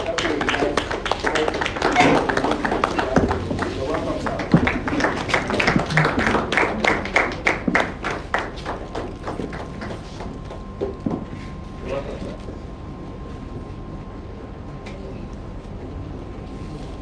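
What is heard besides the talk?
audience applause and standing ovation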